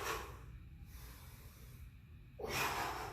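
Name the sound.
heavy breathing during kettlebell workout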